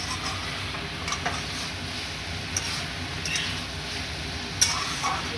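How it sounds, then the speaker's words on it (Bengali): Ridge gourd greens chorchori with lentil dumplings is stirred in a pan, a soft steady sizzle with scraping strokes and an occasional light tick of the spatula, fairly quiet and with no talk. "বড়িগুলো দিয়ে আবার একটু নেড়ে নেবো।"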